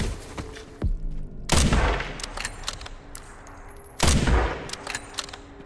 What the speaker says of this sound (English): What if I use my rifle?